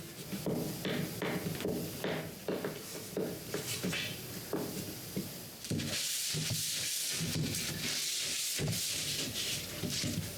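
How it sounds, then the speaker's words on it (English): Varnished wooden drawer boxes are sanded by hand in quick repeated strokes, near and clear, the rubbing turning to a brighter, hissier scrape partway through. "I hadn't sanded between the varnish coat inside the boxes. I do it now"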